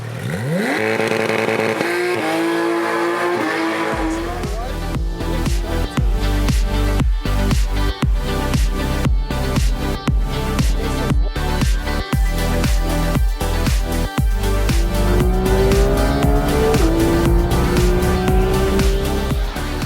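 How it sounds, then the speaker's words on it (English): A race car lapping the Kyalami circuit, heard from on board: the engine revs up hard through the gears with sharp shift breaks, then keeps a loud sustained roar as it accelerates again. "strapped in for a lap of the Kyalami circuit"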